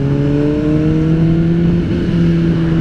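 A motorcycle engine holds a loud, close, steady rev with a sustained buzzing drone, pitch shifting slightly near the end, with no voices.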